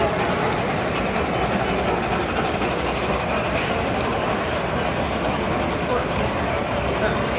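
A model train locomotive numbered 461 runs around a layout at a train expo, giving a steady, continuous rolling hum and rumble close by, with crowd chatter in the background throughout.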